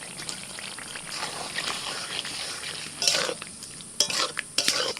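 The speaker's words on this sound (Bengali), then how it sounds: "এবার দিয়ে দিচ্ছি ভাজা মাশরুম।" A spoon stirs fried mushrooms into a thick masala curry with kasuri methi in a pan, with a soft sizzle under the scraping and sharp clanks of metal on the pan toward the end.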